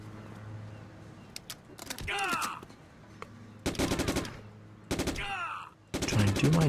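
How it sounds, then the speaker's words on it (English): Rapid gunfire in the action video game Jonathan Kane The Protector, several bursts of automatic shots with sweeping effects between them, loud and close, and a voice talking over part of it. "they're all shooting at me"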